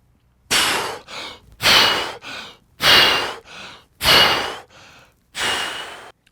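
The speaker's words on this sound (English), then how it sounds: "So a recovery breath would look like this." A person recovers from a breath hold with deep, rapid breaths. Five loud, sharp inhales each pair with a shorter, softer exhale in a steady rhythm, close to the microphone, and no one speaks.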